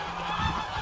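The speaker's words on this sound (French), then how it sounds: "Ah, c'est bruyant, les oies." Geese honk loudly and continuously at close range, a dense overlapping clamor of several birds with no talking.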